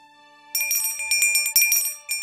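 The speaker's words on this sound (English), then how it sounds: "It's your bell. It gives you away every time." Small bell on a hiding sheep character's tail jingling in a children's story scene, a quick run of bright tinkling rings alone after a quiet start, close and clear.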